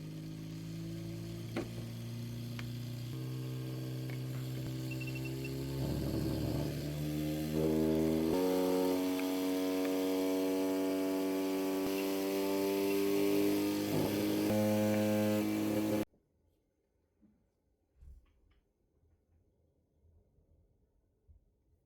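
A Newman-style mechanical oscillator motor with a blower fan spins up through stepped voltages, its steady tonal hum rising in pitch in distinct jumps and growing louder before cutting off abruptly, leaving faint clicks.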